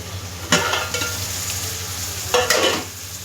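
Brinjal and green peas fry in a pan with a soft continuous sizzle, broken twice by sharp scraping bursts of a spoon stirring the mixture.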